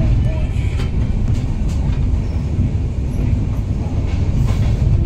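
Tejas Express train running toward Mumbai, heard from inside the carriage as a continuous loud low rumble with faint rattling and no clear speech.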